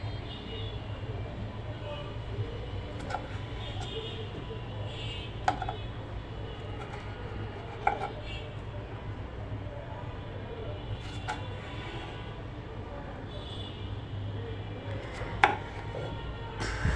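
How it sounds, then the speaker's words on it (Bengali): Tomatoes cut into pieces with a knife on a board, giving sparse, soft chopping taps at irregular intervals over a steady low background hum, with a voice talking at times. "তো টমেটোগুলো আমি পিস পিস করে কেটে নেব।"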